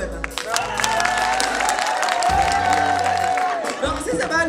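Festival crowd at a live slam show breaking into loud applause and cheering, sustained clapping with whoops rising and holding across the clip, with some voices mixed in.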